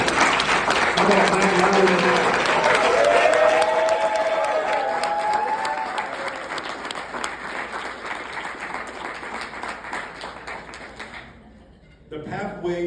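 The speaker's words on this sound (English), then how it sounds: "Can we clap for the Dixons?" Crowd applause with some cheering for the Dixons at a New Life of NYC strategic plan presentation. It starts full and loud, slowly thins, and ends in a sudden near-silent gap before a voice begins talking.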